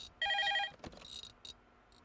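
An electronic telephone ring bursts out once, bright and tonal, then trails into quieter clicks and short faint tones in an indoor scene from a Telugu film.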